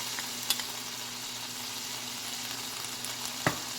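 Chicken lollipops fry in a pan on low heat with a steady, even sizzle throughout, broken by two brief clicks of a utensil.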